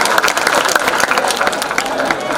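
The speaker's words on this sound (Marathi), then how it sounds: "त्यामुळे या शिक्षकांच्या प्रती पुन्हा एकदा जोरदार टाळ्या वाजवून आपण त्यांना" An audience at the Ratnapur school reunion applauds its teachers: dense, steady clapping fills the whole stretch, mixed with crowd murmur and voices.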